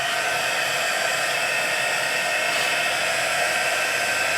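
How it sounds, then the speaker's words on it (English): A heat gun blows a loud, steady hiss of hot air over a paper card, unbroken and close throughout with no pauses or talk. "we'll take our heat gun and make that nice and plasticky"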